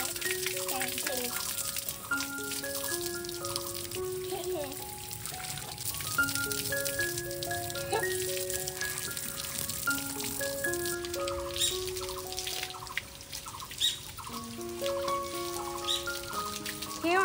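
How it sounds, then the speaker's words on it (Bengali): Water splashes and pours while a child is bathed, shampoo and oil in use, with a voice and an adult talking over the continuous trickling and patter. "ফলটা খাওয়ানো হয়ে গেলে আমি ওকে স্নান করিয়ে দিই।"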